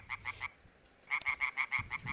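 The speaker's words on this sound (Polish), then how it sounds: "maleńką, ale głośną rzekotkę drzewną" A small European tree frog calls in rapid croaking bursts, three quick pulses and then a longer run of about six, loud and close against a quiet night background.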